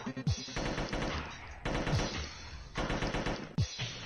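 An SMG in a Madness Combat animation fires in loud, rapid bursts, with three or four close, dense volleys separated by short gaps and no talking.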